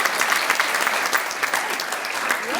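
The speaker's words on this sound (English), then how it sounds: "So we'll give him a round of applause in his honor." A banquet crowd at the Springfield Public Schools COOP Banquet 2016 claps in steady applause, a dense, lively patter of many hands filling the room throughout, with no one speaking over it.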